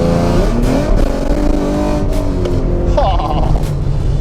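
Revving 3.7L V6 Ford Mustang fitted with BBK long tube headers and an off-road X-pipe, a loud, raspy engine note swelling and rising in pitch, close by and steady throughout.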